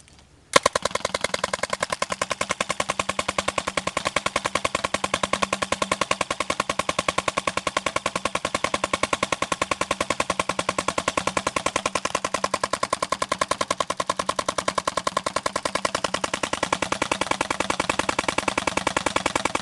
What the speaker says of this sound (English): This is the Delta Elite fully auto.